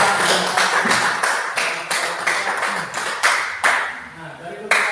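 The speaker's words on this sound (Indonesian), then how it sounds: "Ya, tepuk tangan untuk kelompok 3." A classroom audience applauds a presenting student group, a dense burst of hand clapping with uneven swells and fades over several seconds, recorded close and fairly loud with some voices mixed in.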